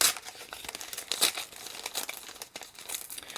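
A package being ripped open by hand, with close, crisp crinkling and tearing bursts in irregular bunches, quiet overall and no talking.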